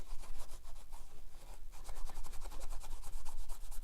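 A Scotch-Brite-backed sponge scrubs old gasket residue off the oil filter housing mating surface of a BMW 328i E90 with an N52 engine, a quiet, steady run of rapid rasping strokes with no talking.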